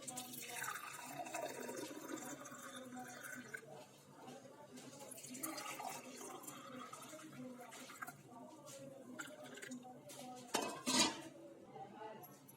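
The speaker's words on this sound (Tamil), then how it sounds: "இப்போ வந்து நான் அந்த பாட்டிலில் ஊற்றிக்கிறேன்" Beetroot juice poured into a bottle: a soft, steady trickle of liquid mixed with light clinks of kitchenware, faint and close, ending in a brief louder clatter.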